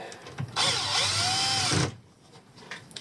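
A power drill drives a screw into wood while building a prawn or shrimp pot trap, one loud continuous whirring burst of about a second and a half with a rising pitch, close up, with quiet room sound before and after.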